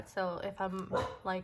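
A dog barks four times in quick succession nearby, overlapping with someone talking.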